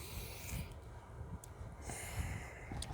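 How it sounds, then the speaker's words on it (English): Pranayama breathing produces forceful nasal inhales and exhales, several snort-like breaths in an uneven rhythm, close and moderately quiet, with no words spoken. "you do that with pranayama breathing."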